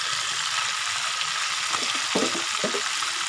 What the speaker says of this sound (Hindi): ये मैंने लहसुन का पेस्ट डाला